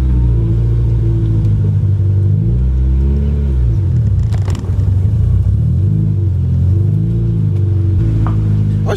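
Loud, close engine of a 1994 Acura Integra LS, with a newly replaced clutch slave cylinder, hums and rises and falls in pitch as the car reverses slowly, low rumbling throughout with no voices.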